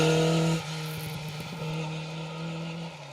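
A Mark 1 Ford Escort rally car on a smooth gravel stage, its engine note holding steady then dropping to a lower drone as it passes at moderate distance, with no talk.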